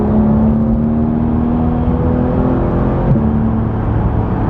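A Porsche 991 driving, heard as a steady, loud engine drone and road hum from inside the car with a faint whine, holding even throughout with a slight shift near the end.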